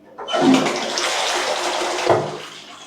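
A hotel room toilet flushes close by: a sudden rush of water that swirls and gurgles steadily for a few seconds, then drains away. No one speaks.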